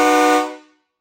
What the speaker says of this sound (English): So should I give him some horn, Jared?